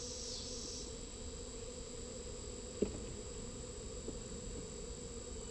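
Agitated honeybees buzzing inside a beehive during an inspection: a faint, steady drone with one brief tap partway through.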